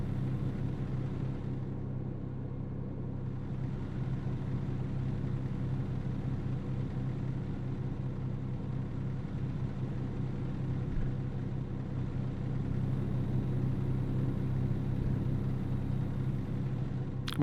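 A truck engine in American Truck Simulator drones steadily with a low, humming rumble that barely changes in pitch or loudness, heard alone with no talking.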